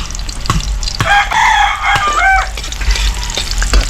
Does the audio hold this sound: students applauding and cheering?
no